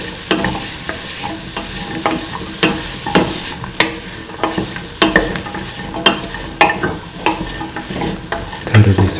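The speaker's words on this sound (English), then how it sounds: "Mix in the bottle gourd pieces." Bottle gourd pieces being sautéed and mixed in a pan: loud, close spoon strokes scrape and clack in a fairly regular rhythm over a constant sizzling hiss, with no speech.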